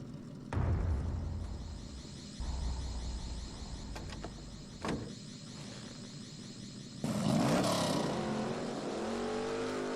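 Engine of a red 1972 de Tommaso Pantera GTS in The Grand Tour video game, during a getaway from an armed robbery in France, rumbling and revving loudly, with a sharp surge and roar near the end.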